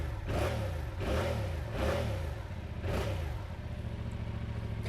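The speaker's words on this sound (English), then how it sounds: "let's do a commute home on the bike" A Yamaha R7 sports motorcycle engine hums loud and steady in commuter traffic, swelling in several rhythmic surges over a constant low drone with wind noise.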